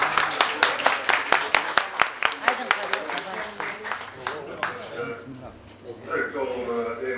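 Wedding guests at a Turkmen wedding celebration in Istanbul clap in a brisk run of sharp, evenly spaced claps that loosen and fade after a few seconds, with voices and music-like tones carrying on beneath.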